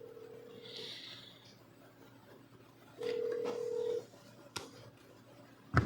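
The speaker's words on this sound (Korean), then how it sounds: "전화를 걸어볼게요" Telephone dialing tones sound while a Korean news broadcast places a call to a reporter, with two steady one-second beeps separated by quiet and a short click between them.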